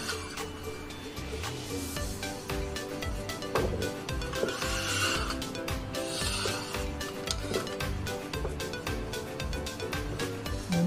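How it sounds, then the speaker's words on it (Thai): A petri dish of freshly poured PCA agar swirled on a lab bench, giving a steady stream of close rubbing and scraping with rapid ticking clicks that continues throughout. "เทแล้วหมุนจานแบบนี้นะคะ"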